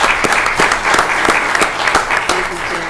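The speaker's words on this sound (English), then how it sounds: "I think that deserves a round of applause." Brief burst of audience applause at a community history talk, steady clapping with a few sharper individual claps standing out, close and fairly loud.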